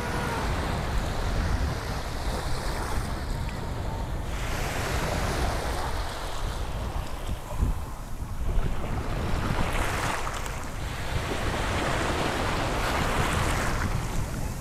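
Sea waves rolling onto a shell-strewn beach at Cần Giờ, a steady broadband wash of surf with gusts of wind buffeting the microphone, swelling and easing throughout with no voices.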